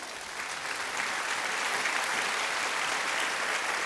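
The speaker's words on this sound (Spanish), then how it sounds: "Dale un fuerte aplauso al Señor." Congregation applauding during a Spanish-language church sermon, a steady, dense wash of clapping from a crowd that holds evenly throughout.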